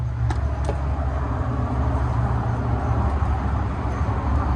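1965 and 1972 Corvettes at the Goodguys autocross in Pleasanton, one leaving the track as the other comes on, make a steady, close engine rumble with constant road and track noise.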